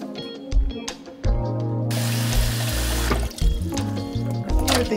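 Tap water runs into a sink while pork ham hocks are rinsed clean, a steady close splashing flow with handling clatter around it and no talk.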